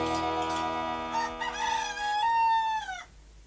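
A cartoon rooster crows one long cock-a-doodle-doo, clear and close, rising then holding a drawn-out final note before cutting off, with no talk over it.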